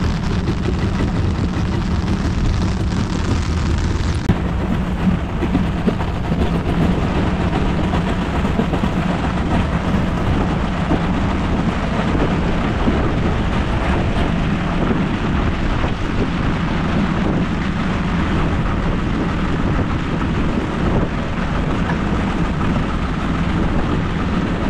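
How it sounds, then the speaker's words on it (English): Heavy rain falls during a stormy fishing trip on the water, a dense continuous wash of noise with wind buffeting the microphone throughout and no clear thunder standing out. "It's a rainy day. Really, really rainy day."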